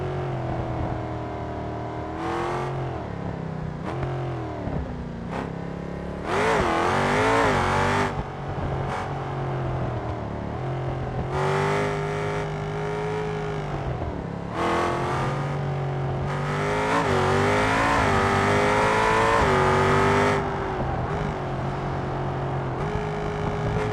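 A race car in the BeamNG driving game revs and accelerates through gear changes, its engine note rising and dropping in repeated surges over about twenty-four seconds, loud and close with no speech.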